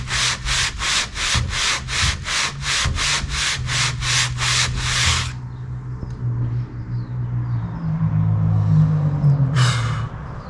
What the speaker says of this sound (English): Had to get some fresh sandpaper.